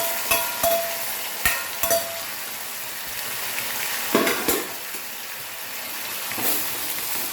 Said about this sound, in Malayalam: എണ്ണയിലൊരു 2 മിനിറ്റ് ഹൈ ഫ്ലെയിമിൽ വെച്ചിങ്ങനെ ഒന്ന് വഴറ്റിയെടുക്കാം